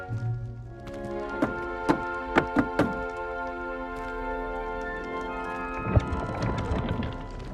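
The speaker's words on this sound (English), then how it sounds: "You must tap the barrel, 2 from the bottom, middle of the 2nd row, in the rhythm of Helga Hufflepuff." In the Hogwarts Legacy video game, a wooden barrel is tapped in a rhythmic pattern: five hollow knocks in a quick, even sequence, then a single louder thump, all over soft game ambience.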